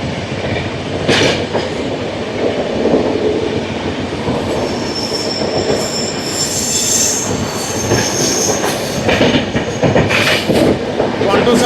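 Train 12758, running from Sirpur Kagaznagar to Secunderabad, sits loud and close at a station, its wheels squealing over a continuous metallic rumble and clatter, with sharp screeches rising and fading throughout.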